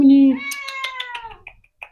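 A house cat lets out a loud, close meow that starts strong and trails off in a descending, drawn-out wail, followed by a faint short sound near the end.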